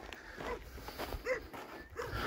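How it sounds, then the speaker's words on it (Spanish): Dogs barking a few times in the distance as travellers approach a remote high-altitude settlement near Fiambalá, short faint yelps and barks spread across a couple of seconds over quiet background noise. "estamos llegando, se escuchan los perros."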